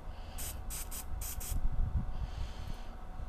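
Several short bursts of spray-on lubricant hiss in quick succession at a dirt jump site, close and fairly faint, followed by low rustling handling noise.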